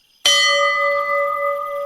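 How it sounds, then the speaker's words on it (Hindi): A temple bell rung by a priest for the first morning aarti: one sharp, loud strike followed by a long, steady ringing hum that sustains without fading, with no other sounds. "पास के मंदिर में सुबह की पहली आरती के लिए पुजारी जी ने घंटी बजाई।"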